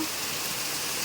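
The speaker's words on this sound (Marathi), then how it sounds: "पाऊस पडतोय बाहेर पाऊस पडतोय" Dense, steady rain pours down in Nalasopara without letup, a constant hiss of drops hitting surfaces close by.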